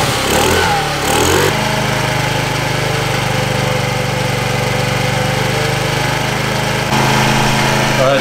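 A 50cc moped engine running close by, giving a loud steady buzzing drone with a couple of brief throttle surges at the start and end.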